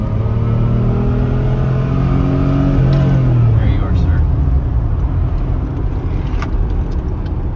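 A 1988 Pontiac Fiero GT with a five-speed manual accelerates hard in second gear, engine tone climbing steadily then easing off, loud and close inside the cabin while people talk over it.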